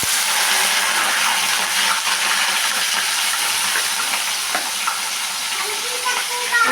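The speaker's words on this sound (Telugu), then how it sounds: "పచ్చిమిర్చి ఆనియన్స్ గోల్డెన్ బ్రౌన్ కలర్ వచ్చేంత వరకు ఫ్రై చేసుకోవాలి మంచిగా" Green chilies and onions fry in hot oil with a loud, steady, close sizzle and hiss that continues throughout, punctuated by faint crackles and light stirring.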